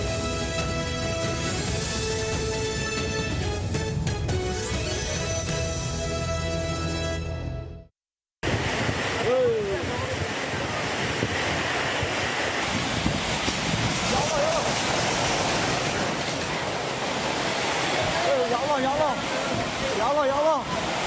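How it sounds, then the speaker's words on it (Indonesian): Strong wind and heavy rain lash a roadside coffee stall in Sidoarjo, a steady roaring wash of rain and gusts throughout, broken by a brief dropout partway through before the storm noise resumes. "Sebuah kedai kopi ambruk diterjang angin kencang saat hujan deras mengguyur kawasan Sidoarjo."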